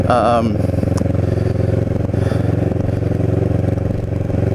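A Ninja 650R motorcycle cruises along a beach drive in North Cape May, its engine a loud, steady mid-pitched drone with a brief higher rev at the start and constant road and wind rumble throughout.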